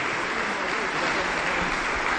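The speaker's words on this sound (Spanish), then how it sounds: "Aplausos para el Señor Jesús." A church congregation claps in sustained, dense applause that fills the room evenly and stays loud throughout.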